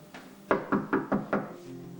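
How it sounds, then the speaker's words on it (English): Knuckles rap on a door at close range: one light tap, then five sharp, evenly spaced knocks, with no talking. "Sweet Sam, open the door."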